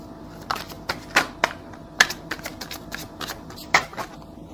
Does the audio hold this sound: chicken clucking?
no